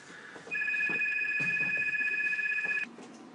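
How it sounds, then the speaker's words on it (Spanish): A telephone rings with a steady electronic double-tone trill, sounding continuously for a couple of seconds close by over a quiet room, with a voice briefly heard at the edges. "perdón por el teléfono"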